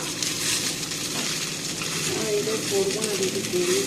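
Eggs fry in a pan with chopped onion and chili, giving a steady sizzle with scraping and stirring throughout, while a voice speaks over the cooking near the end.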